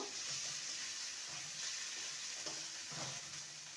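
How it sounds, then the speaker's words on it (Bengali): Chopped medium tomato fries in a pan after flour has been fried, for a fish and elephant foot yam curry. A steady, soft sizzle continues throughout, with faint stirring scrapes and no talking. "দিয়ে দেবো একটা মিডিয়াম সাইজের টমেটো কুচি টমেটোটাকেও ভেজে নেব"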